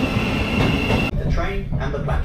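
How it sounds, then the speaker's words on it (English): A Thameslink Class 700 Siemens Desiro City train pulls into a station platform with a loud, close rumble and hiss of wheels on rail. The sound cuts abruptly partway through, then the quieter rolling continues. "And here comes my train, a Thameslink Class 700, a Siemens Desiro City train."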